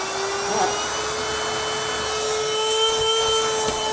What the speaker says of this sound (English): It's still vibrating its little head off, but it does at least have some suction.